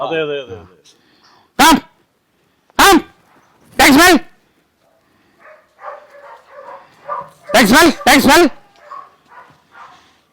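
Several sharp dog barks ring out close by in short bursts, singles then a quick double, with faint muffled sounds and quiet gaps between, during dog training.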